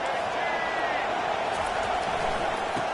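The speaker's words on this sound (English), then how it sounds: "This crowd trying to make life miserable for this offense." A steady roar of a stadium crowd fills the background in the College Football 25 video game, a dense wash of noise with commentary voices talking over it.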